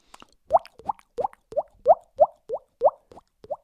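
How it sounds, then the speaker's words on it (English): Nine crisp, hollow popping sounds made by flicking a cheek while pushing air out, spaced in a steady, fairly quick rhythm, close and dry, with no talking over them. "I flick the cheek while simultaneously pushing air out of"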